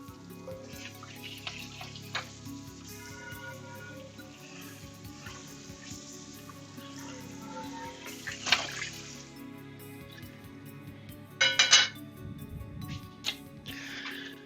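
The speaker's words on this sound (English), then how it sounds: "And clean off my skillet." A cast-iron skillet is rinsed at a kitchen sink: running tap water with splashing and scrubbing, a loud burst of spray near the end, and clinks of cookware throughout.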